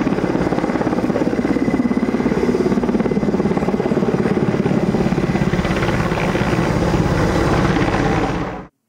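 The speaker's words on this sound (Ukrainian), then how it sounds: "Рятувальники до роботи залучили і авіацію – 2 гелікоптери та 2 літаки." A firefighting helicopter flies over a large forest fire, its loud rotor thudding continuously and close for about nine seconds before the sound cuts off abruptly.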